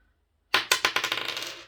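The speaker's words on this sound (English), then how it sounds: "if I roll the dice" Dice rolled for a board game, tumbling onto a hard surface in a quick burst of clattering bounces that speed up and fade, close and alone.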